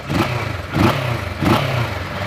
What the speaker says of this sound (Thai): มาฟังเสียงท่อกัน